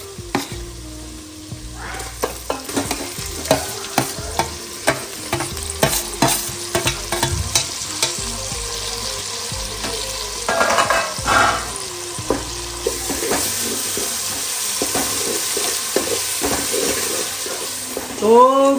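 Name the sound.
stirring and frying onion with garlic-chili paste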